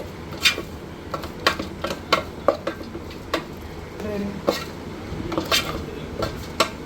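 Spoon scraping and clinking against a pan while green peas pulao spices are stirred together, irregular metallic taps and scrapes at close range over a low hum.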